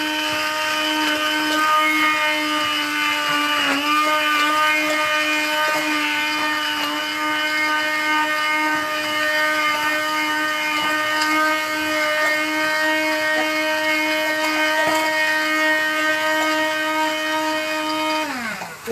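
A kitchen blender whirs continuously as it smooths an onion mixture for curry, a loud, steady high motor whine held for many seconds before it winds down and stops abruptly at the end.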